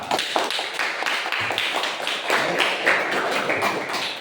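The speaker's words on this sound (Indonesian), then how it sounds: "Tepuk tangan untuk Mbak Safa." A class of students clapping for a classmate, a quick, uneven patter of many hands sounding close and busy throughout in a room, with no one speaking over it.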